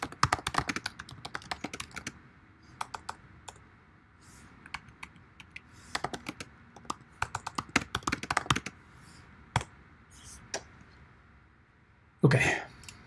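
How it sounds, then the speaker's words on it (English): Typing on a computer keyboard, rapid bursts of clicking keystrokes with short pauses, fairly close and clear, ending with a louder bump or throat clearing near the end. "Make sure I can type that out."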